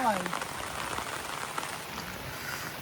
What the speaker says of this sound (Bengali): মারাত্মক বৃষ্টি এসছে, চারিদিকে জল জমে গেছে